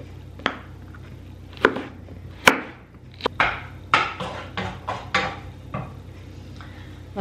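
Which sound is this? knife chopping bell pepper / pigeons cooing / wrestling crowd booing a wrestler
knife chopping bell pepper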